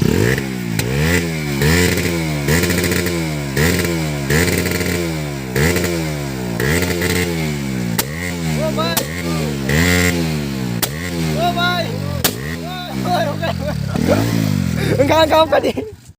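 NS200 motorcycle engine revving hard in repeated rising sweeps, loud and close, with sharp backfire pops crackling near the end.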